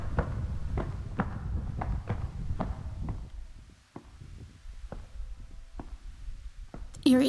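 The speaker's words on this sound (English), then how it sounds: "you do have footsteps in this game" Footsteps in a dark first-person game world, a steady series of crisp clicking steps at a walking pace, louder at first and then quieter and sparser over a low ambient rumble.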